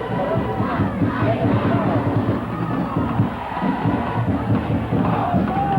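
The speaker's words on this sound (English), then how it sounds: "The crowd's going bonkers here." The home crowd at a 1982 high school football game between Westlake and San Gabriel roars in a constant loud swell of cheering and shouting that fills the whole stretch, with no clear break.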